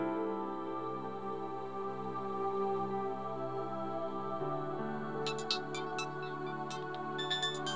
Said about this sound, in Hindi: फोन बज रहा है तुम्हारा।